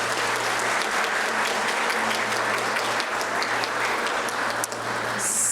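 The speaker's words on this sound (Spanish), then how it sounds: "Démosles un fuerte aplauso," A crowd at a university ceremony marking the birth anniversary of José Francisco Morazán gives loud, sustained applause, an even wash of clapping that runs for the full five seconds and eases slightly at the end.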